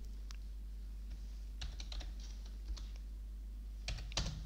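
Computer keyboard keys click in scattered short bursts as data is entered into an Excel invoice spreadsheet, fairly faint over a low steady hum, with no talking.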